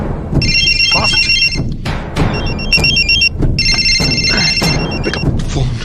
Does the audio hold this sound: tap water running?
no